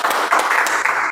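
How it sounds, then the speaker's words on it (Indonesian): A classroom group claps for a presenting student group, a brief, dense burst of many hands that is loud and close and continues without pause through the short clip. "Bagus, tepuk tangan."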